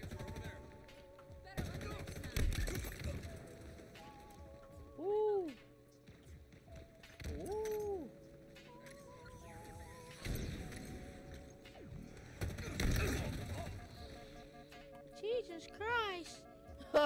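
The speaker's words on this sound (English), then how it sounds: "Why are you shooting at me?" Gunfire in the Halo Infinite online multiplayer shooter, heard as repeated bursts of shots mixed with game sound effects and music, with a player talking over much of it.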